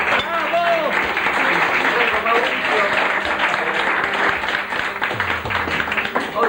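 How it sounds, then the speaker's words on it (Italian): An awards ceremony crowd for a vintage car hill climb in Cagliari breaks into loud, continuous applause for a driver, with dense clapping close by and voices mixed into the din. "Abbiamo già fatto un grosso applauso a Dinelli, gliene facciamo un altro."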